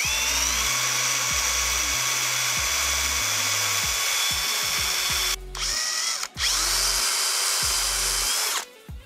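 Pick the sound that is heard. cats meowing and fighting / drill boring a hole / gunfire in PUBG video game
drill boring a hole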